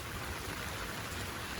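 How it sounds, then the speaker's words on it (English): Steady rain falls on a vegetable garden of cabbage and garlic, a dense, even hiss of drops with no pauses, soft and continuous with no voices. "The rain"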